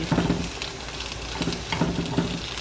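Chile and garlic cloves roast in a pan alongside tomatoes and onion, giving off a close, soft sizzle with crackling bursts that come and go.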